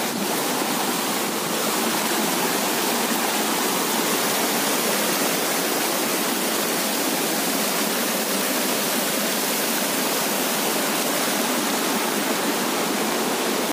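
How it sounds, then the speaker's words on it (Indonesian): Hot spring water flows along the trail on Mount Gede, a loud, dense, unbroken rush of running water heard up close for about fourteen seconds with no voices. "Nah ini airnya panas, ngalir."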